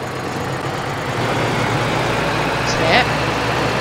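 Tractor engine in Farming Simulator pulling away, a steady mid-range drone holding level throughout with a brief higher chirp near the end.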